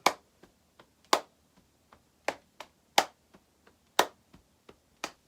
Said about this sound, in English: So it goes clap, slap, slap, clap, slap,